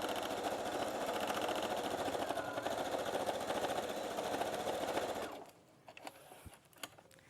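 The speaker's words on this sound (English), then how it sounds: "So we're just simply sewing across that line that we've just made." A domestic sewing machine runs a continuous reverse stitch across fabric, a fast steady mechanical whir for about five seconds that then stops, followed by a few faint handling clicks.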